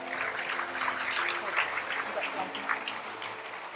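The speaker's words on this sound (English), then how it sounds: "Another round of applause for Brad McGee." An audience at a hall of fame induction ceremony claps in a steady, moderately faint patter, with some murmuring voices mixed in.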